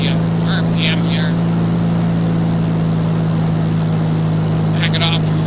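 Aircraft engine in the X-Plane 11 flight simulator droning steadily as the throttle is eased back, loud and constant, with someone speaking briefly over it.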